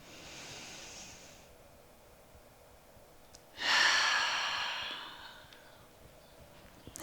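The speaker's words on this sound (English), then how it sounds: "Last round of breath wherever you are." Two long breaths during a yoga session, a soft airy exhale near the start followed by a louder, fuller breath that trails off slowly, alone in a quiet room.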